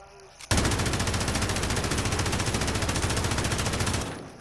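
A low-recoil machine gun fires in Modern Warfare as one sustained, rapid, evenly spaced burst lasting about three and a half seconds, loud and close, before it cuts off.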